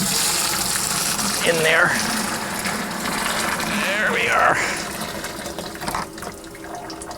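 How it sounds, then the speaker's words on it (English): Hop tea poured from a container through a strainer into a home-brew batch, a steady gushing liquid stream with bubbling gurgles that tapers off toward the end, while someone talks briefly over it. "I'm gonna pour this hop tea through my strainer just in case there's any particulates"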